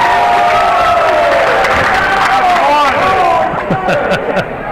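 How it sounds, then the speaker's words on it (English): Saranac fans cheer loudly at a JV boys basketball game, a dense roaring crowd with shouts and whistles rising over steady babble, then thinning slightly near the end. "Saranac cheering because the Cougars get their first foul of the second half."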